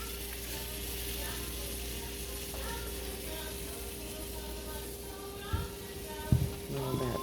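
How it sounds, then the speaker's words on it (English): Homemade buttermilk cornbread fries steadily in hot butter with a continuous, quiet sizzle, joined near the end by a few clanks and scrapes of a utensil against the pan. "You hear it sizzling."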